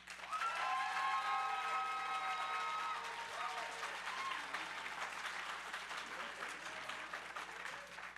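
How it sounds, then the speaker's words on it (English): An audience at a pitch event claps and cheers in a round of applause, with whoops and shouts over steady clapping that fades slightly toward the end; moderately distant. "If you guys think AD took it, please show your hands in a round of applause"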